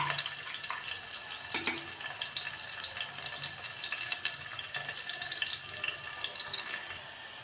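Onions fry in oil for eggplant biryani, giving a steady, close, crackling sizzle with scattered pops throughout and no voices.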